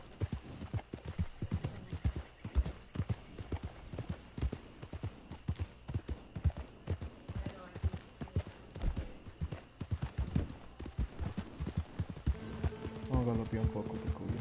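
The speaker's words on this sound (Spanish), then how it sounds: "Vamos a galopear un poco, Penco viejo." In Red Dead Redemption 2 Online, an old horse's hooves beat out a steady, loud clip-clop gallop, with a snort or whinny near the end, under a voice speaking.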